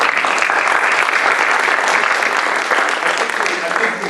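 Loud, dense applause from an audience honoring veterans and their families at a talk on the U.S. wars in Afghanistan and Iraq, a steady wash of many hands clapping throughout without letup.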